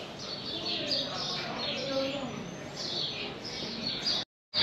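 Birds chirp around an outdoor restaurant in Senegal, repeated bright tweets and calls at moderate distance over a soft ambient bed, fairly faint, ending in a brief dropout.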